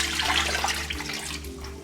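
Water is poured from a glass into a pot of mutton curry with ground green masala paste and kasuri methi, making a loud, close, steady gushing splash with no talk.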